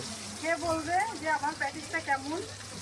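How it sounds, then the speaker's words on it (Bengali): Potatoes frying for potato chops at a roadside food stall, a soft steady sizzle running beneath close conversation between vendor and customer. "এই দেখে এখন আলু ভাজা হচ্ছে, আলুর চপ হচ্ছে"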